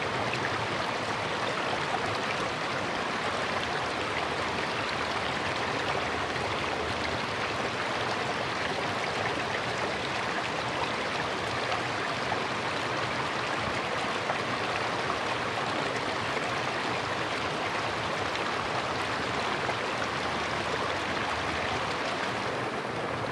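A flowing stream on the Bruce Trail in the Caledon Hills rushes loudly and steadily, a continuous bright watery roar that stays even for the whole stretch with no voices.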